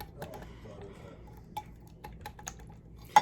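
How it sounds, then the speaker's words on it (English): A whisk works limoncello pudding mixture in a bowl, giving scattered light metallic clinks and taps against the bowl, irregular and fairly close, with one sharper knock at the end. "Keep whisking it, whisk, whisk, whisk."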